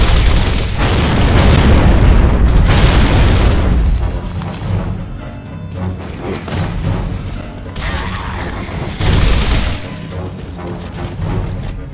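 Grenade blasts in the Gears of War video game, loud booming explosions with crashing debris, one big blast then further heavy booms rolling on, no talk over them.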